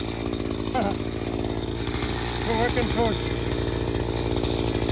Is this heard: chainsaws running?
yes